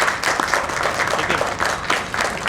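Applause from the audience at a government ceremony handing out appointment letters: dense, steady clapping that fills the whole stretch at a fairly loud level, with no pauses.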